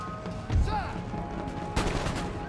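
Musket volleys and cannon fire boom from massed lines in Empire: Total War. A crackling fusillade rolls out with heavy thumps, first around the midpoint and again louder toward the end, over a steady battlefield rumble.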